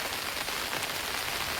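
Steady rain falls on a rural homestead where cattle stand out in the wet, a dense, even hiss of drops that continues unbroken from start to finish with no voices.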